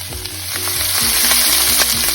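Onions and peppers fry loudly in a hot pan for Beijing beef, a dense, close, continuous sizzle with faint stirring knocks underneath.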